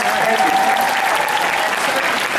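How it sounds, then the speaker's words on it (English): Audience applause at the close of a Q&A session, a sustained wash of clapping from a crowd lasting a couple of seconds. "A big round of applause for our guests."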